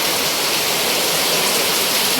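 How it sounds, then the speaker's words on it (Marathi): Strong wind howls through heavy rain at night in a violent storm, making a loud, steady, unbroken roar of broadband noise. "वारा बिरा सुटलाय बघा"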